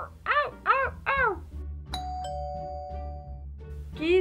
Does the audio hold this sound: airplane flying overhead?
no